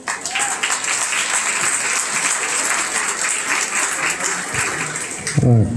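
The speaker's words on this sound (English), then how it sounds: "Let's give him a round of applause." Audience at a goat show gives a sustained round of clapping, dense and fairly close, running steadily before a brief voice cuts in at the end.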